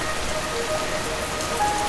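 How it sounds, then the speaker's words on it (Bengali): Heavy rain pours steadily, a dense, even hiss of drops drumming on surfaces with no break. "খুব জোরে বৃষ্টি নামলো"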